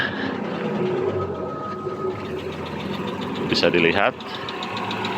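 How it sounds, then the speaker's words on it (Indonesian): A Dodge Charger engine, previously refusing to start over a blown fuse, runs at a steady idle close by, a low rumbling hum with a brief louder revving surge near the end, while someone talks over it. "mesinnya sudah hidup"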